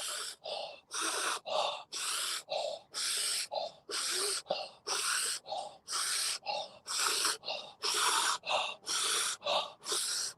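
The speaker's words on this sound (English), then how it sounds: "He's breathing in." Deep, rapid breathing during a guided breathwork session, with forceful, evenly spaced inhales and exhales repeating about twice per second, close and loud, with no talking over it.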